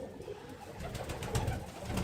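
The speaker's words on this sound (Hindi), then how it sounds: "मैंने एक कबूतर पकड़ा है जी" A captured pigeon gives soft, low cooing close by, murmuring on and off against a steady background hiss.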